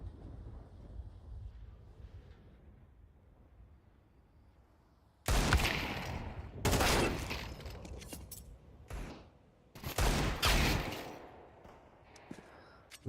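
Desert Eagle pistol shots ring out during a competitive multiplayer match, several loud sharp blasts in separate bursts over quieter game ambience.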